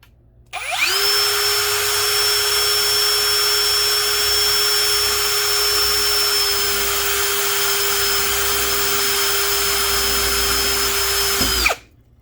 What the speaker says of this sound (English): Make sure you're holding your drill pretty straight.